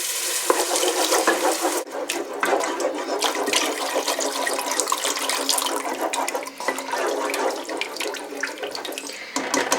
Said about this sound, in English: So now we have to add the water. So we are going to add little by little, moving.